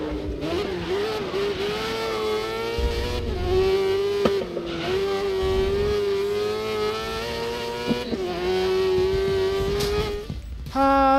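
Formula race car in the Grid (2019) racing game accelerating hard, its engine tone climbing steadily through the gears with brief shifts, loud and continuous throughout.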